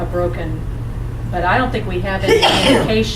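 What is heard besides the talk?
person sneezing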